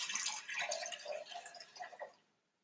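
Rose water poured through a kitchen strainer, a soft trickling and dripping that runs steadily for a couple of seconds, then tapers off into silence.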